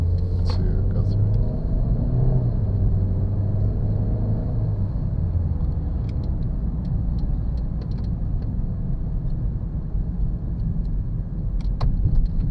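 2013 Kia Soul engine running and revving under light throttle, a steady close low rumble throughout with a faint high whine, while a person speaks quietly over it.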